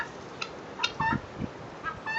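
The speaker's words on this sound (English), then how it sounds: "I was listening to the roosters crow" Silkie roosters in a chicken barn, with short bird calls and crowing bursts scattered over about two seconds, fairly faint with low barn rumble beneath.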